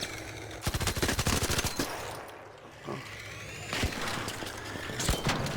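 Rapid automatic gunfire from the video game Arc Raiders rattles in two loud bursts, one early and one late, with a quieter lull between them and shots echoing around.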